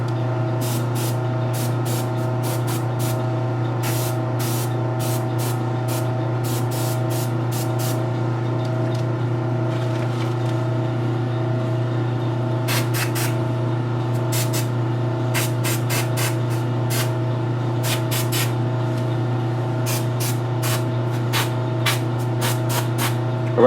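Spray paint hissing steadily onto a custom Velma Dinkley statue in heavy passes, with a constant close hiss and repeated short bursts as the nozzle is pressed on and off.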